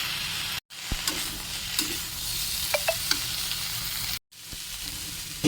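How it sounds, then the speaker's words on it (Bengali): Frozen green peas frying in a sizzling pan with spices, a steady close hiss broken by spatula scrapes and clicks, with two brief cuts to silence. "এবার এতে কড়াইশুঁটি অ্যাড করে দেবো।"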